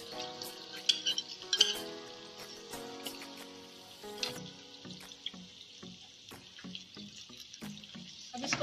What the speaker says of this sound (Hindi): अच्छी तरीके से इसके साथ भूनेंगे जब तक ये व्हाइट कलर में नहीं हो जाता, और साथ ही इसकी हम ये लहसुन अदरक भी डाल दें।